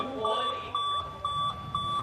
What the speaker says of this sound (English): It sounds like the fire alarm goes off here in Queenstown.